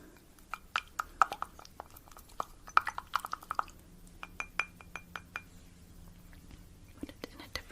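Mixing a potion inside a glass container: light, close clinks and taps of a utensil against glass in uneven bursts, with soft stirring and faint liquid sounds under quiet whispering.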